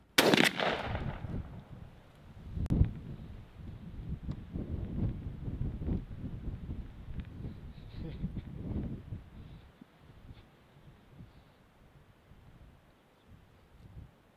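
A TriStar Cobra 3 pump-action 20 gauge shotgun fires one loud, sharp shot at a 40-yard target outdoors, followed by a softer report and wind noise, with someone talking afterward.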